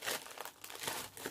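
Plastic packaging crinkled while a Funko Pop box is opened, a close, continuous crackle of handled plastic lasting about a second and a half.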